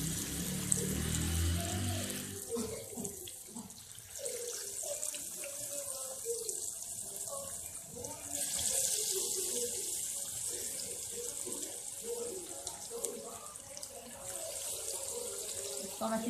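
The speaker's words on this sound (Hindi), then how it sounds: "तो हम अच्छी तरीके से गोल्डन फ्राई करेंगे।" Masala vada patties deep frying in hot oil, a soft continuous sizzle and bubbling hiss, fairly faint, with occasional low knocks and handling noises.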